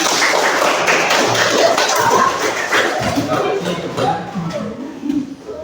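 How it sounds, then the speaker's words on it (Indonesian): Students in a classroom clap their hands on a teacher's request, a loud burst of clapping and taps mixed with voices and movement, becoming more scattered toward the end. "Bapak minta tepuk tangan semuanya"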